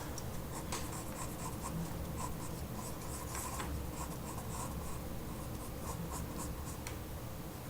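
A pencil sketching a manga-style hand on paper, with soft continuous scratching strokes and light taps, faint and close, with no talk.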